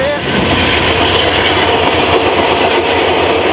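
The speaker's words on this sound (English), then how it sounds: "Most of these rail cars are from the 1920s and 1930s." A train of old 1920s–1930s rail cars on the New River line rolls steadily past close by, a continuous loud rumble and rattle of wheels on track with some talk underneath.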